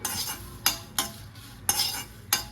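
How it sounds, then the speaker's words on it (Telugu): Dried red chillies fry in a pan for vankaya pachi pulusu, with a soft sizzle broken by four or five sharp metallic stirring scrapes at an uneven pace and no voices. "రంగు మారే వరకు వేయించుకోవాలి"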